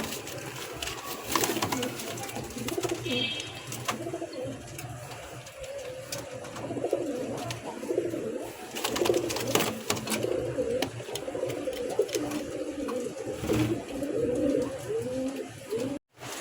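Several pigeons, including a breeding pair on a nest pot, coo continuously close by over a busy, rustling loft background with occasional clicks and knocks, no speech.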